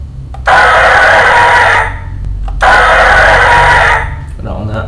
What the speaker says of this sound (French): alors on a un hurlement de dinosaure